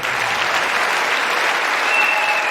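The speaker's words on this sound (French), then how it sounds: "On applaudit très fort." Loud, sustained applause from a crowd, dense and even clapping filling the whole stretch without letup.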